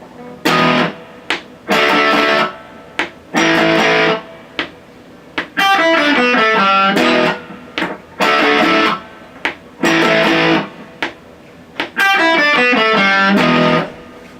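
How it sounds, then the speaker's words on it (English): Distorted electric guitar playing a riff: short chopped chords, then ringing arpeggiated runs, repeating; loud and up close with no voices. "you have a foot pedal, distortion pedal, or an amp that has a distortion channel"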